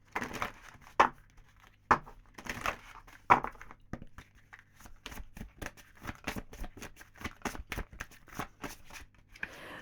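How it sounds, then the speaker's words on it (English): A thin tarot card deck being shuffled by hand, with a few sharp riffling bursts followed by a quick run of soft, close flicks and shuffles in a quiet room. "This deck is quite difficult to shuffle because it's so thin."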